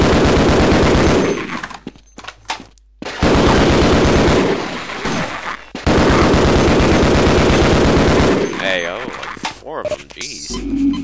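Assault rifle fire from the video game Half-Life comes in loud, rapid bursts with brief gaps between them, and someone talks over parts of the shooting.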